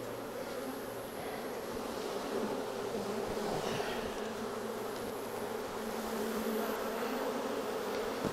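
A dense, continuous buzzing of many swarming honeybees fills the air during a hive split, a steady droning hum with no voices present.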